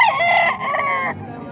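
A rooster crows loudly and close by at a market in Calumit, one drawn-out call that cuts off sharply.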